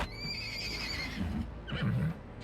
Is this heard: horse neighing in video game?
yes